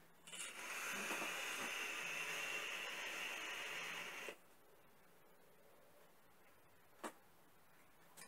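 An electronic cigarette fitted with a Q2 coil is vaped at 55 watts: a steady airy hiss and crackle for about four seconds, then it stops abruptly, leaving quiet with a single faint tick later.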